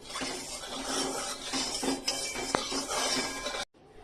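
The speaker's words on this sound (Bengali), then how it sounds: "এবার তেলটাকে একটু নাড়িয়ে নেব।" Clattering metal kitchen sounds of a utensil scraping and stirring oil in a hot wok, over a steady background hiss, with a sharp clink midway, then a sudden cut.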